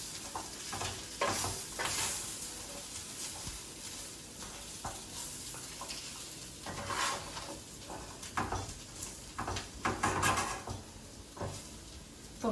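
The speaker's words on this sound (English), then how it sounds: "Just going to give it a mix." Gravy mixture with flour is stirred in a hot pan, a spoon scraping and swishing in uneven strokes over a steady sizzle, close and continuous, with occasional louder scrapes and no talking.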